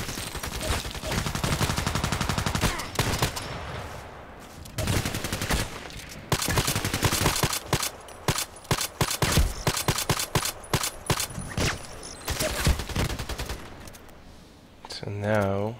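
Gunfire in the video game Battlefield, with the EBR and DT SRS rifles in use: loud, close bursts of rapid automatic shots come in clusters, then single sharp cracks, with a player's voice heard between the shots.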